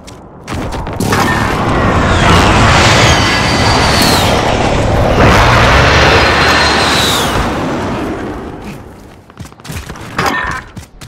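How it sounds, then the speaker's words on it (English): Heavy airstrike blasts in Call of Duty Modern Warfare gameplay: loud, sustained booming and crashing rumble across most of the span, with two swelling waves of explosions and debris, easing off near the end. "Allied precision airstrike incoming."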